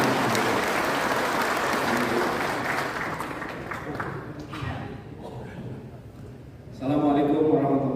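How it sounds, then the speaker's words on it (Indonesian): Audience applause for the MC at a rally of Go Anies volunteers, a broad, dense clatter of many hands filling the room for several seconds before fading, with a voice speaking over the tail end. "Kasih tepuk tangan dulu untuk MC-nya."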